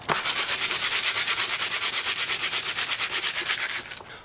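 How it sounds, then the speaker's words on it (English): Wood is hand sanded with 60 grit sandpaper for a pillory build, giving a rhythmic scratchy rasp of quick back-and-forth strokes, close and steady, with no voices. "I've just got some 60 grit sandpaper that'll take that right off."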